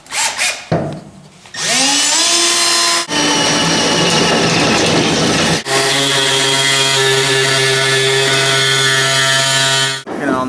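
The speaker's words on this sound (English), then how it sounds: "drilling a hole, and then air sawing it out" A loud power drill whines, then an air saw buzzes steadily and continuously, close up, with brief pauses between cuts, opening a truck bed.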